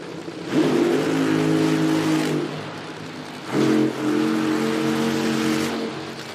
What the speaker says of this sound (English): we've got the cars fired up here